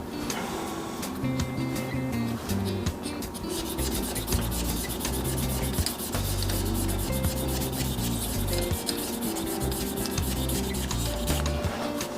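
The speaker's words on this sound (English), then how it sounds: "then we'll have a hand sand" Steady, continuous rubbing and scraping of an epoxy resin shaving brush handle with a 26mm synthetic knot being hand sanded, a loud, dense abrasive texture running unbroken and close up with no speech.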